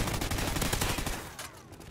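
Dense, rapid video game gunfire with overlapping automatic bursts from several guns, loud and close, thinning out toward the end.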